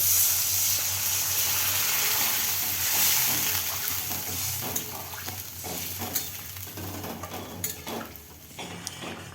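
Potatoes cooked with spices simmer in water in a pot, giving a steady close bubbling sizzle and hiss with faint stirring clinks throughout, with no voices.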